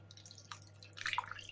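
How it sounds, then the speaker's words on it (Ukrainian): Liquid is poured into a pot of grape-leaf dolma: it splashes and trickles close by, a few drips at first and then a brief burst of pouring, over a low steady hum. "І тепер заливаємо це все в каструлю,"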